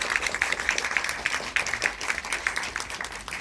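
An audience at a film Q&A applauds to welcome director Alina Simone after a screening of her documentary Black Snow, a steady patter of many hands clapping at moderate volume.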